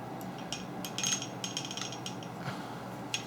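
Ruger 9E pistol being field-stripped, with a small scatter of light metallic clicks and a ratcheting rattle as the slide is pulled off, close and fairly quiet with no talking.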